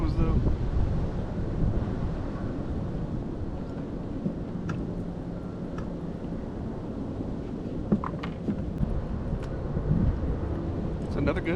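Wind sweeps across Lake Chickamauga on a late fall evening of fishing, a steady, loud broadband roar buffeting the microphone without pause, with small knocks now and then.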